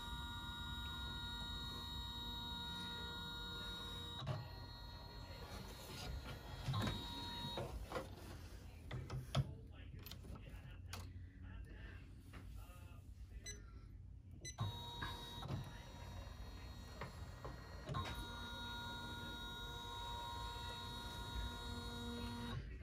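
An embroidery machine stitches a satin stitch on a stocking-shaped zipper bag, a steady mechanical whirring hum with rhythmic needle clatter that briefly shifts pace midway, no one speaking.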